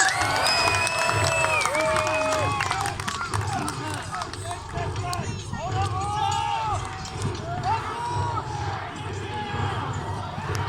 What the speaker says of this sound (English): Give them a cheer as they come to their clash of arms.